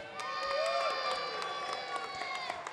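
An audience cheers at a robot combat event, a bright burst of shouting and whooping from a crowd that includes children, held steady for a few seconds at a distance.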